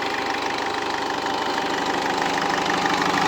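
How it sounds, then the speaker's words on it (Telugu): A 2011 Ford Figo EXI diesel idles close by with a steady, even diesel clatter and a fine knocking rhythm that holds constant for a few seconds, with no talking. "ఇంజన్ సౌండ్ కూడా స్మూత్గానే ఉంది."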